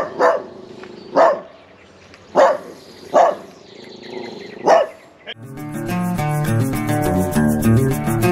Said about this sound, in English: It's got a big bark for a little dog.